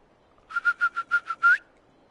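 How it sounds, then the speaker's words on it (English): In Fallout 4, a sharp, loud whistle calls a dog: six quick, evenly spaced pulses followed by a slightly longer rising note, with no other sound around it. "you can't whistle to call June because he's more like a cat"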